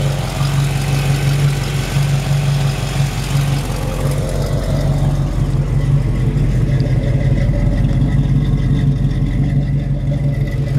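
A 1973 Camaro V8 with a mild cam, long tube headers and an Edelbrock Performer intake idles cold, a steady loud low rumble with a lumpy, throbbing pulse and no talking.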